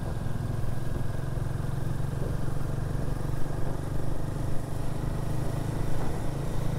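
A motorbike cruises along a highway lane beside heavy lorry traffic, with a steady low engine drone under constant rushing wind and road roar that never lets up.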